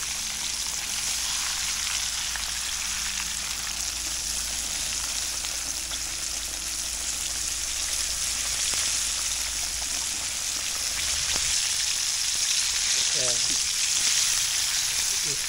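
Fish sizzles and crackles in hot oil in a pan for sweet and sour fried fish, a dense continuous frying hiss with occasional spatter and faint stirring.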